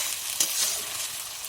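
Green chilies and ground dried chili frying in a pan for a pork curry, a steady close sizzle with a brief louder crackle near the start and no talk.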